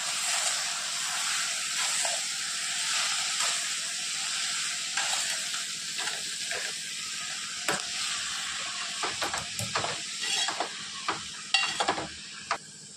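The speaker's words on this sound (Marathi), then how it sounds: "आता याला छान मिक्स करून घ्यायचं।" Chakvat (bathua greens) being stirred and mixed in a hot pan, a steady sizzle with intermittent scraping and clacks from the spoon growing more frequent toward the end, close and alone.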